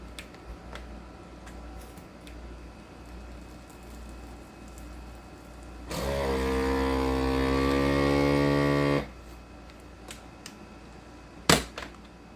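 A vacuum sealer sealing a bag of corn runs with a loud, steady motor hum for about three seconds, then cuts off, followed by a sharp click; quiet room tone before and after.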